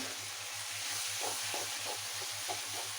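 A spoon stirs chicken biryani in a pot, giving soft, repeated scraping strokes at a regular pace over a constant hiss of steam and gentle sizzling, close and moderately quiet, with no talking.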